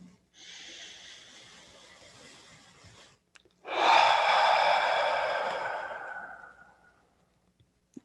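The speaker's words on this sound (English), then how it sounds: "And then you breathe in. Actually practice that right now." Deep breathing during a guided breathing exercise: a soft, steady inhale of about three seconds, a short pause, then a louder, fuller exhale that slowly fades out, close to the microphone.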